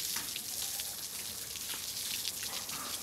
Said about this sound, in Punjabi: ਲਓ ਜੀ, ਆਪਾਂ ਨੇ ਤੜਕਾ ਲਾ ਦਿੱਤਾ ਸਬਜ਼ੀ ਨੂੰ